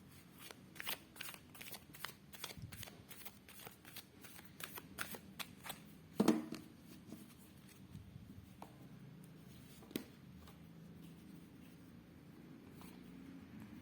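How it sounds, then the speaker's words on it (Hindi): Tarot cards being shuffled by hand, a rapid run of crisp riffling flicks that thins out into a few scattered taps, close and fairly quiet. "Last shuffle."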